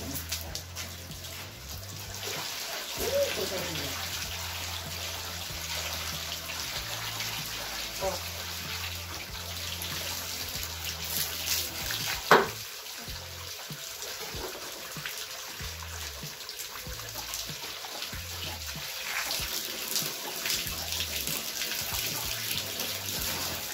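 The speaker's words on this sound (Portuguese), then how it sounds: "É melhor deixar a água aberta aí para não sair." Water pours steadily from an open hose or tap on a farm during pig butchering, a continuous hissing splash under intermittent talk, with a brief sharp knock midway.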